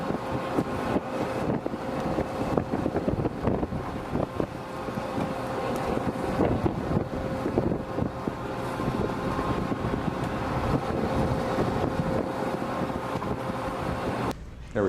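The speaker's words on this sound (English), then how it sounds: "Six knots of wind." Six knots of wind blow across a ship, making continuous rushing, gusty noise that buffets the microphone over a low, steady rumble throughout.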